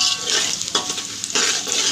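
Curry leaves fry in hot oil for poha chivda, crackling and hissing as their moisture cooks off, with the scrape of a spoon stirring the pan close by; loud and continuous with brief bursts of sharper spatter.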